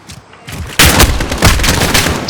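Single-shot weapon fire in Call of Duty: Modern Warfare, several sharp loud reports in quick succession with booming tails, close and dominant.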